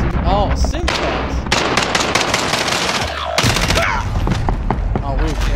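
Loud, close automatic gunfire in Call of Duty Warzone rattles in rapid sustained bursts while several players shout and talk over the shooting.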